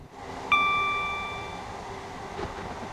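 A train on the London to Brighton line in Train Sim World 6, with a steady rumbling rail drone, a bright chime that rings out and slowly fades, and a faint clank near the end.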